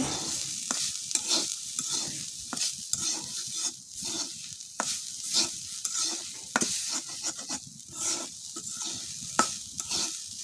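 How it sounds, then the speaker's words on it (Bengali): Grated coconut fries in a pan for a patishapta pitha filling, giving a continuous crackling sizzle broken by repeated scraping strokes of a stirring spoon, close and fairly loud. "আমি নারকেলগুলোকে ভালোভাবে বেজে নিতেছি"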